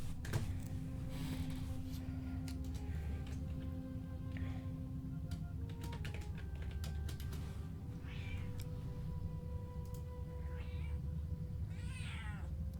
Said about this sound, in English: He is the grumpy cat.